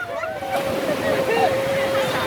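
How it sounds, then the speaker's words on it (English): Rapids rush and churn around a raft tube drifting through Ausable Chasm, a broad watery roar under people talking and calling out over the brief stretch. "There's some more rapids."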